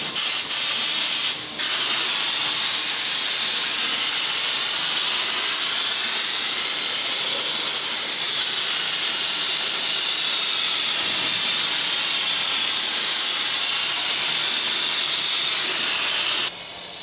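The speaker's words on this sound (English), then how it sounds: "we get the air hose picked out." An air hose sprays undercoating onto a car in a custom shop, giving a loud, close, continuous hissing spray with no talk over it, broken only by a brief pause near the start.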